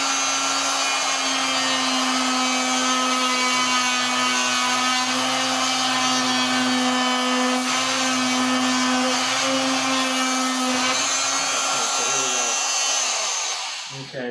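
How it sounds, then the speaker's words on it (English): A power tool cuts a rocket motor tube, a loud sustained whine with a steady pitch that holds for over ten seconds, close up, then winds down and stops at the end. "Let me cut the other motor tube, and then I'll sand the tube down,"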